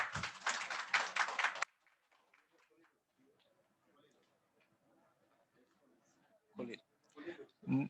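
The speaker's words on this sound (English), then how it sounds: "Big round of applause, ladies and gentlemen." Audience applause at an award ceremony honoring international trade training experts in Bangladesh, a loud burst of clapping that stops abruptly, followed by quiet room murmur and then short renewed bursts of claps near the end.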